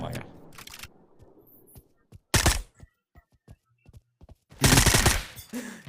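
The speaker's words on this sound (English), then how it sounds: "He has an automatic Kalashnikov." Automatic Kalashnikov rifle fire in the Pavlov VR shooter game: two loud bursts of rapid shots stand out amid scattered clicks and thuds, with players talking around them.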